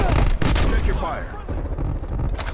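Bursts of FARA 83 assault rifle fire in Call of Duty Black Ops Cold War, rapid sharp shots in quick clusters with explosive rumble in the background.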